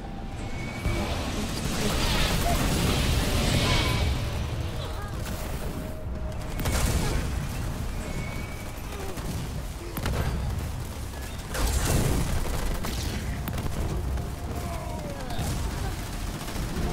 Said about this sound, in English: I'm getting hit from artillery up here.